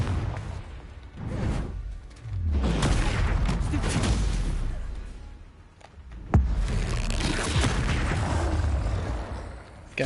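Confringo fire-spell blasts in the Hogwarts Legacy video game burst repeatedly amid combat, with loud booming impacts and whooshes at a fairly steady pace, one sharp hit standing out midway through.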